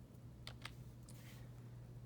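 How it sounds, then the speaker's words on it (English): A couple of soft, quick key presses on a computer keyboard, faint clicks over a steady electrical hum in a quiet room. "So I'm going to hit 0 on the keyboard"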